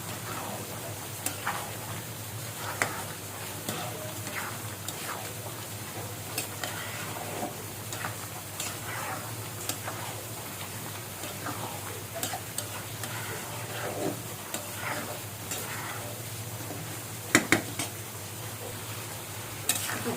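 Tripe cooked with potatoes in a pan, stirred as it fries, giving a steady low sizzle with scattered scraping clicks from the utensil throughout.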